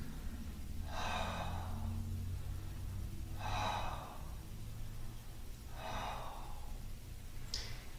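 Three slow, deep breaths during a seated chair yoga session, each a soft airy inhale and exhale spaced a couple of seconds apart, close and quiet over a faint low background hum.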